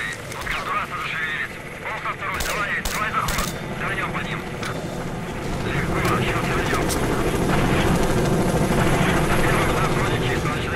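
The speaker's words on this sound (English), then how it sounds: "it's gonna be heli choppers and everything" Helicopter in STALKER Shadow of Chernobyl thrums continuously, growing louder and nearer over time, with sharp cracks of gunfire and someone talking over it.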